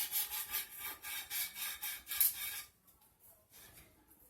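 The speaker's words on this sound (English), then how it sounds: "this little block I made, sanding block, works really good for this" A handmade sanding block rubs back and forth along the cut edge of a marble tile, making a steady series of about eight close, rasping strokes before fading to quieter scraping.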